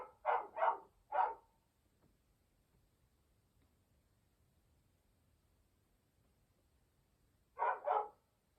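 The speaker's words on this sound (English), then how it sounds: "She's a Labrador." A Labrador barks three times in quick succession, then falls quiet for several seconds before two more barks; the barks are loud and close against a near-silent background.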